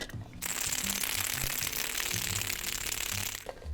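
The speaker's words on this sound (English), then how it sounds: "we're going to shake this for about 15 seconds till the tin gets nice and frosty" Ice rattling inside a metal cocktail tin shaken hard for a breakfast martini, a rapid, close, rhythmic clatter that runs continuously for several seconds before stopping.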